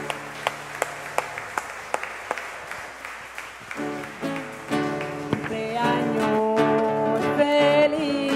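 A church congregation claps after a blessing during Sunday Mass, starting as a sparse run of single claps and thickening into fuller applause as organ or sung music rises beneath it.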